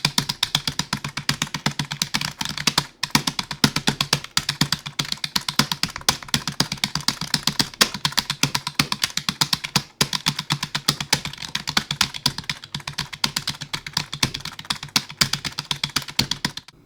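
Rapid clacking keystrokes on a membrane keyboard while playing chord jacks in a rhythm game, producing dense, evenly repeated chord hits close to the microphone for the whole stretch.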